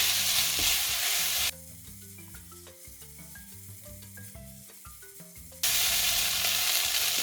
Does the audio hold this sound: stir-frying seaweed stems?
yes